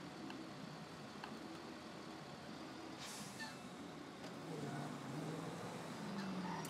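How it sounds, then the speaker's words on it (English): A tow truck with air brakes in GTA 5, heard as a faint low engine rumble with a short hiss of air release midway, plus light traffic noise and no voices. "So the tow truck is here."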